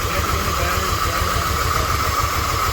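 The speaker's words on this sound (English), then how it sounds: "The engine doesn't even shake now." A 1997 Dodge Dakota's 3.9 V6 idles smoothly after a timing chain and head replacement, giving a steady, even low rumble with a constant hiss over it, close by and alone with no voices.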